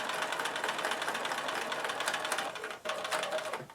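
A sewing machine with a quarter-inch foot sews a quarter-inch quilt seam, a steady close mechanical buzz that dips for a moment near the end before running on.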